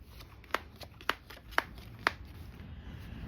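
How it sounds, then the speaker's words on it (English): Playing cards dealt one at a time onto a table for a math game, four crisp evenly spaced snaps about half a second apart, close and clear over a faint background hum with no talk. "Get 4 more cards out here."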